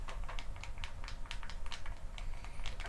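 Rapid typing on a Clicks physical keyboard for iPhone gives crisp, close clicks in an irregular quick rhythm, fairly faint, with no voices.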